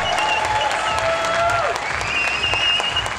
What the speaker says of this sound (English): I think we can make a little bit of noise for OCB's newest pro bodybuilder, Naftali Zeilinger.